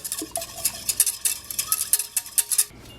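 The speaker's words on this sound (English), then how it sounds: "And now we're going to stir them together." Spoon stirring milk and sugar together in a bowl while making doughnuts, a run of quick, close scraping and light clinking strokes with no talking.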